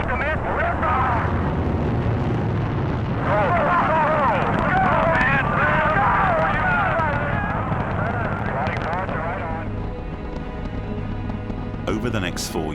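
Saturn I rocket engines roar at liftoff in a loud, sustained broadband rumble that fills the whole stretch, with voices and crowd chatter layered over it and a slight fade toward the end.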